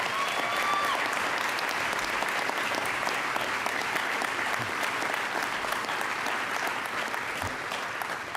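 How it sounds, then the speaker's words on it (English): An audience at a business awards meeting and all-member gathering applauds company employees in a long, steady, even wash of clapping from a sizable crowd, with a brief tonal whistle near the start. "I think we should give them a round of applause"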